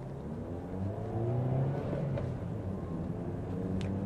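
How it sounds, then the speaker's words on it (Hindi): Ford Figo Aspire car accelerating hard from 0 to 60 with the air conditioning off, a steady engine drone and rumble rising in pitch as it revs through the gears, heard from inside the cabin. "तो अब इसका एक बार हम करेंगे 0-60 एसी बंद करके।"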